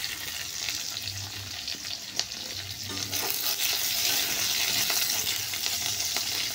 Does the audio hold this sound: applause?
no